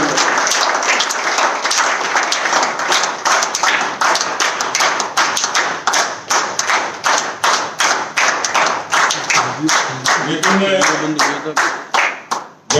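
Loud, sustained applause and rhythmic clapping from a crowd at a BJP political rally in Rajasthan, with dense clapping throughout and a voice briefly heard near the end.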